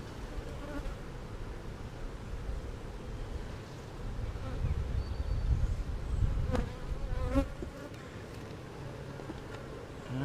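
Honey bees buzz around an open, queenless hive during a nectar flow, a dense droning swarm close by that swells in the middle, with a few brief clicks of hive handling.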